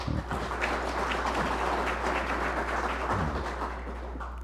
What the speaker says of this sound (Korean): 여러분 다시 한번 감사의 박수 보내주시면